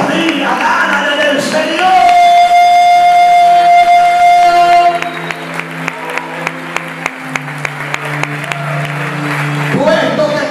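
A church congregation applauds during a sermon, the clapping blending with sustained instrumental tones and voices before thinning out near the end.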